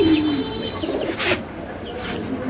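Racer pigeons at a pigeon farm give soft, low cooing calls close by, with a few brief chirps and some faint background noise.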